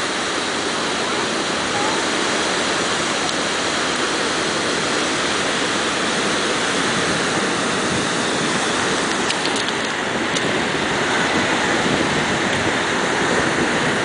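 Ocean surf rushing over rock tidal pools as the tide comes back in at a beach, a steady loud broadband roar that holds for the whole stretch with a little wind buffeting and no talking.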